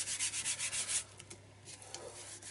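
Glued paper being rubbed down by hand onto a circular art journal page, giving a soft, rhythmic swishing friction for about a second before fading to faint, scattered rubbing sounds.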